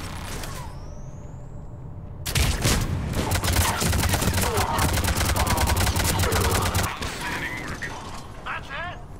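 Rapid automatic gunfire rattles in a dense, continuous burst during a Mass Effect 3 multiplayer match, loud and sustained for several seconds, with a player speaking over game sounds before and after.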